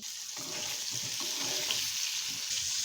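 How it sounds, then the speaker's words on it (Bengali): Fish fry in hot oil in a pan, a close, steady bubbling sizzle that stays even for a few seconds, with no voices. "তারপর এখানে ভাজতে দিয়েছি হচ্ছে মাছগুলোকে, সুন্দর মতো মাছগুলোকে ভেজে নিব।"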